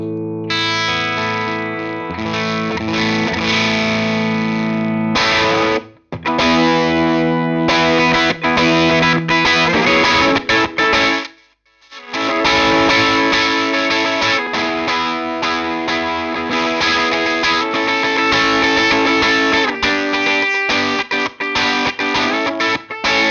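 Electric guitar through a Thermion Engineering pedal set to bright mode, dense distorted chords ringing loud and continuous with two brief breaks, no voices.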